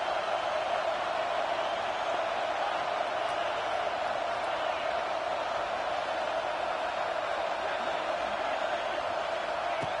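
Steady roar of a large stadium crowd at an Ohio State football game, a dense continuous wash of cheering noise held at even loudness throughout.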